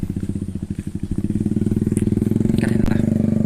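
A motorcycle engine chugs nearby with a steady pulsing thump that grows louder and quicker as it rides past, with faint background noise.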